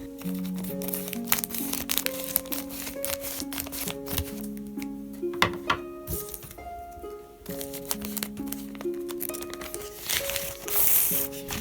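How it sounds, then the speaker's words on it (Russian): A paper letter envelope holding a stiff cardboard envelope is torn and opened by hand, with close crinkling, rustling and sharp tearing bursts over soft background music. "Получил такое вот письмо, и сейчас я его вскрою"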